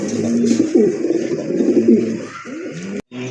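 Lahori pigeons coo loudly and close by in a steady run of throaty, rising and falling calls, with no talking. A brief gap falls near the end, and then the cooing resumes.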